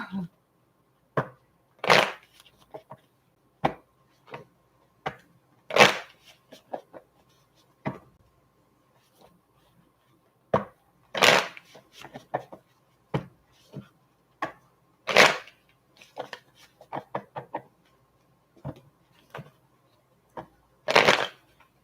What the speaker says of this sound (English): Oh, that was a sucky shuffle.